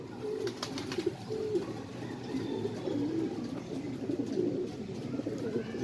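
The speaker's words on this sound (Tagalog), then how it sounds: "Ngayon ang ibon." Soft pigeon coos repeat in a low rhythmic pattern against a steady outdoor background hum, fairly close and moderately loud.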